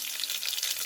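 Curry leaves sizzle in hot oil with mustard seeds, a dense, steady crackling hiss that fills the pan close up with no talk over it.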